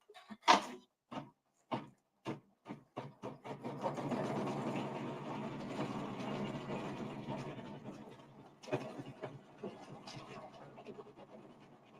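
An embroidery machine stitches a bird wing motif, starting with a few separate short taps and then settling into a steady, continuous mechanical whir that runs close and fairly loud for several seconds with no voice over it.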